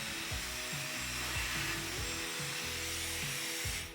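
A handheld blow dryer runs steadily at close range while a round brush works bangs forward, giving a continuous whirring motor tone with rhythmic shifts as the brush moves; no one speaks over it.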